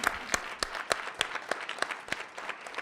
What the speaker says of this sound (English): I'd just like to ask everyone to join me in giving a round of applause to Patrick and Susan.